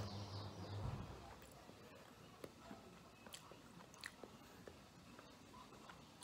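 Dark chocolate is bitten and chewed close up, with small crisp snaps and moist chewing clicks scattered throughout and a low hum at the start.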